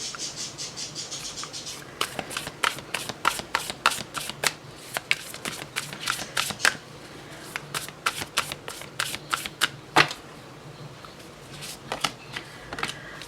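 Tarot cards are shuffled by hand in repeated quick riffles and crisp papery flicks, close and fairly loud, in irregular bursts with short pauses between them.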